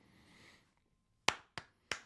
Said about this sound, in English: Can we get as many claps as humanly possible for versatility?